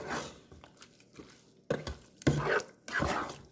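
Chicken biryani ingredients are stirred together in a pot, with several bursts of wet squelching and scraping separated by short pauses, close and fairly quiet.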